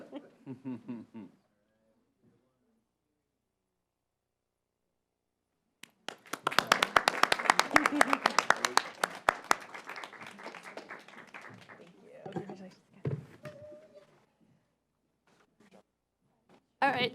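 A burst of applause with scattered clapping from a modest crowd at a city council meeting in Kirkland, honoring community leaders, lasting several seconds between stretches of quiet and brief murmured talk.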